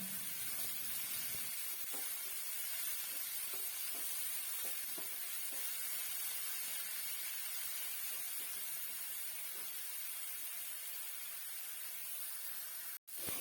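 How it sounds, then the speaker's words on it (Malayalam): Omelette filling sautéing over high flame, a faint, steady sizzle broken by light intermittent scrapes of a spatula in the pan, ending with one sharp click. "ഏകദേശം ഒരു രണ്ട് മിനിറ്റ് സമയത്തേക്ക് ഐ ഫ്ലെയിമിൽ ഇട്ടിട്ട് ഇതുപോലെ തന്നെ ഒന്ന് വഴറ്റിയെടുക്കാം"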